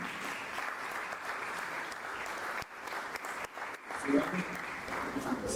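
An audience at a French-language career orientation forum panel applauds Mr. Chassi with dense sustained clapping at moderate distance, a brief dip in the middle and a voice rising briefly near the end.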